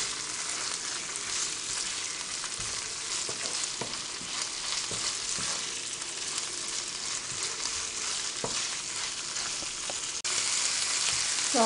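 Beef liver fries in a pan and is flipped from side to side, making a steady, close sizzle broken by occasional sharp utensil taps and clicks, with no talking.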